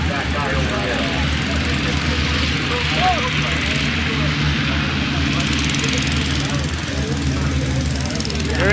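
A tire tractor at a tractor pull event roars loudly and steadily throughout, a dense, sustained engine drone that never lets up.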